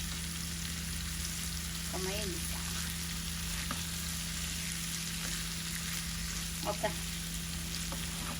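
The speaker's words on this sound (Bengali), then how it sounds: "আমাদের মাছ একটু মশলার মাঝে কষুক" Hilsa fish being fried in spice paste in a pan, a steady low sizzle with occasional stirring scrapes and faint clinks over a constant background hum.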